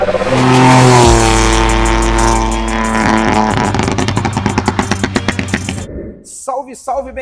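A tuned VW Up TSI Stage 3 accelerates hard in fourth gear, its engine note climbing loudly and steadily before backing off into crackling pops, with a voice speaking over the end.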